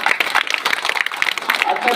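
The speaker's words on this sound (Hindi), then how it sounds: "एक बार आप लोग जोरदार ताली बजा दीजिए।" An audience at an outdoor street play claps loudly in a dense, rapid burst of applause lasting about two seconds, mixed with some crowd noise.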